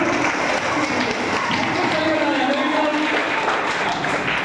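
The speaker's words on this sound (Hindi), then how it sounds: "तालियां" Children and participants at a school yoga camp clap together in a steady, even burst of applause, close and continuous for several seconds with voices mixed in.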